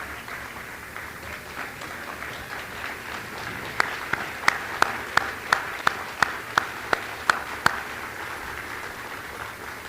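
Scattered applause from a crowd at the FTCC 2024 fall convocation settles into loud, steady rhythmic clapping, the claps landing in an even beat.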